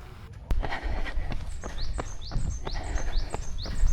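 Repeated short rising bird chirps sound at a steady rhythm over soft footsteps and light outdoor background noise.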